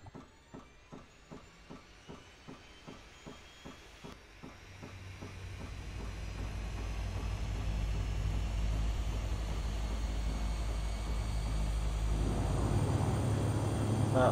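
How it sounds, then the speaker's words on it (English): A light propeller plane's engine in Microsoft Flight Simulator X, on a flight from Yola to Jos in Nigeria, starts with slow rhythmic cranking clicks, then catches and swells into a steady loud drone that builds and holds. "I'm going to start the plane up."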